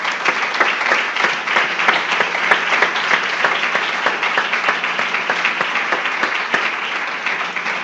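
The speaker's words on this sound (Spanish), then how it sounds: "Yo quiero que le demos un aplauso al Señor, hermano" A church congregation applauds at a service, sustained and loud, with rapid overlapping clapping from many hands and sharp individual claps standing out, steady from start to finish.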